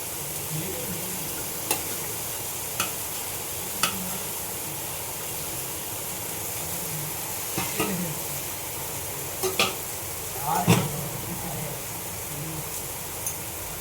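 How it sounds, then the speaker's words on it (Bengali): Fried fish heads are stirred into cooking greens in a pan over a continuous soft frying sizzle. Scattered scrapes and clinks of the utensil come now and then, a little louder near the end, with no talk. "এবারে এর মধ্যে দিয়ে দেবো আমি এই যে মাছের মাথাগুলো ভেজে রেখেছিলাম, সেই মাছের মাথা।"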